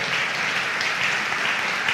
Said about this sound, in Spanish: Dale palmas al Señor, adórale con libertad